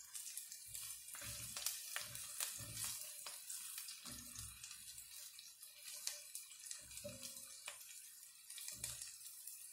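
Garlic and onion fry in a pan for Veracruz-style cod, giving a steady close sizzle with irregular louder crackling bursts throughout, and no talking.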